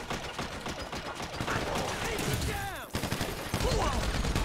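Gunfire in GTA Online during a Criminal Enterprises mission: bursts of shots with rapid clattering reports spread through the clip, partly obscured by game sounds and other noise, with no clear isolated blasts.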